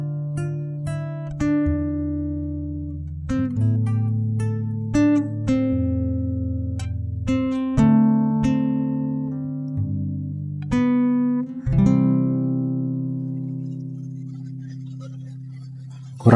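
Fingerstyle acoustic guitar plucks out a song, clear single notes and chords ringing one after another at a moderate pace, close and alone, with the last notes left to sustain.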